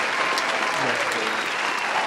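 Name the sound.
round of applause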